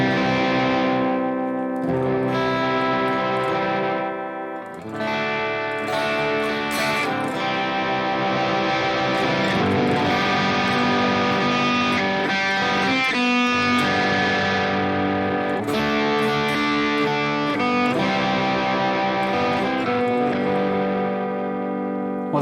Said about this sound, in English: Maybe some power amp distortion.